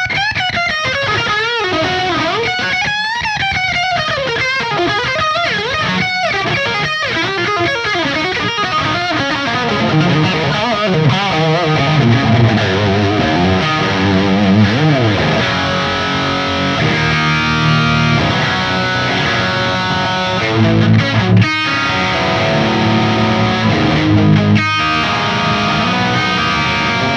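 A Marshall Studio SC20H guitar amplifier cranked to maximum gain roars with thick, saturated distortion as chords and sustained notes ring out loud and continuous, bright and dense throughout.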